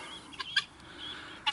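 Guinea hens on a summer farm give a few short, sharp calls, with two bursts near the start and another at the end over a quiet background.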